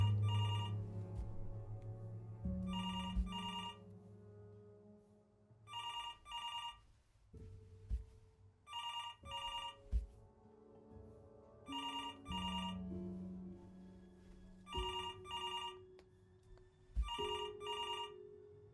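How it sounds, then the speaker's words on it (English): An old-style telephone bell rings in a horror video game, repeated double-burst rings at regular intervals over a low, shifting ambient drone. "It was the phone that we couldn't pick up."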